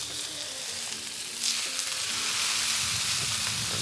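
Steaks sear in a hot pan with a steady, loud broadband sizzle that swells partway through as more meat hits the surface, crackling continuously with no voices.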